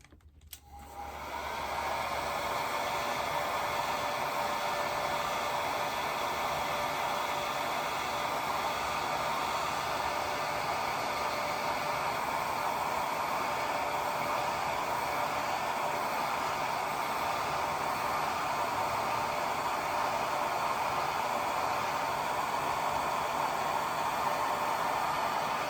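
A hair dryer blasts steadily at close range over a watercolor painting, kicking in after a brief start and holding one loud, even whoosh for the rest of the clip without pause.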